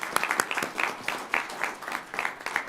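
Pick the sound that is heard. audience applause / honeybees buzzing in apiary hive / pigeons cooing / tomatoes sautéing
audience applause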